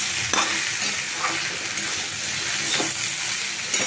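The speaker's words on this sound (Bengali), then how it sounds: "এবার টমেটোর পেস্টটা ভেন্ডি আলুর সাথে একটু ভেজে নেব" Okra and potato fry in a pan with freshly added grated tomato paste, giving a continuous hissing sizzle broken by a few soft stirring scrapes; no voices.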